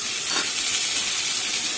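Asafoetida sizzling in hot oil while being stirred in a pan for a dhaba-style potato dal, a loud, steady frying hiss throughout.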